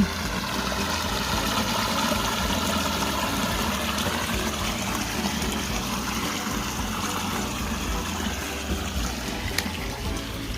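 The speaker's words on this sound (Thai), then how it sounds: "น้ำใสแจ๊ว น้ำไหลมาจากบนภูเขานู่น" A clear mountain stream in the evening, flowing beside wild cherry trees, gives a continuous, even rush of running water close by, with no voices over it.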